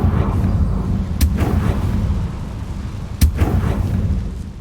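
In Hogwarts Legacy, a Confringo fire spell lands with two sharp, loud blasts about two seconds apart over a heavy rumbling game ambience.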